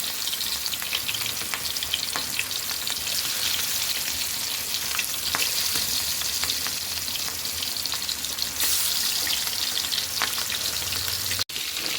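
Katla fish pieces sizzle steadily in hot oil, a dense continuous crackle with scattered sharp pops and occasional stirring scrapes, close and loud throughout with no talking.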